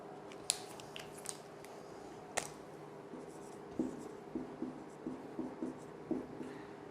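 Chalk or marker writing on a board with soft, quiet scratches and taps in short strokes, sparse at first and then a quicker run of small marks.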